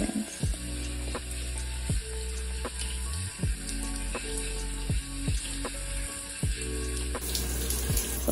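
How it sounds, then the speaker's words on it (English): Shower water runs steadily while someone rinses off their body, a continuous hiss of spray with repeated soft splashes and knocks as the stream is broken up, fairly quiet, with no talking. "And now we rinse."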